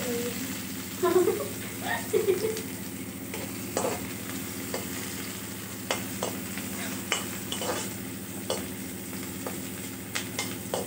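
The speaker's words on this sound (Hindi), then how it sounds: "अनियन को हम लाइट ब्राउन होने तक पकाएंगे" Onions frying and sizzling in a pan while being cooked light brown for chowmein, a steady hiss with intermittent stirring scrapes and clinks, with a voice speaking briefly over it.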